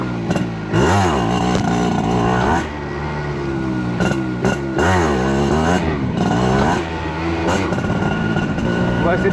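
Motorcycle ridden on a beach, its engine repeatedly revving up and dropping back in loud surges, with someone talking over it at times.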